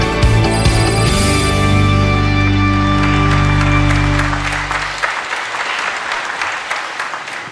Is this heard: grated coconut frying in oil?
no